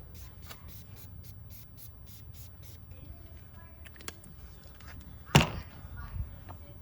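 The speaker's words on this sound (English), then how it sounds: "Take our rapid tack, go ahead and spray it down." A spray can of rapid tack application fluid hisses in a quick series of short bursts during a vinyl wrap on a 2016 BMW X1 tail light, then goes quiet; a sharp knock and a louder thud follow nearby.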